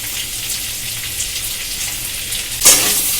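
Potatoes fry in a pan with turmeric and Kashmiri chilli, giving a steady close sizzle with a sudden louder hiss near the end as something is stirred or added.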